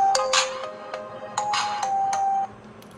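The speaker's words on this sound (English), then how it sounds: "my mobile has been silent and it's still ringing" A smartphone set to silent mode plays its ringtone anyway: a bright electronic melody of repeating chiming notes in short bursts, close and clear, ending abruptly.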